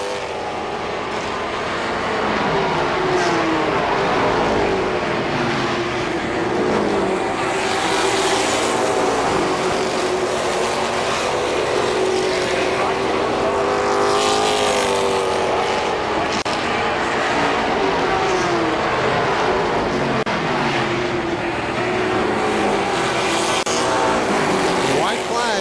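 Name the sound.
race cars racing on a speedway track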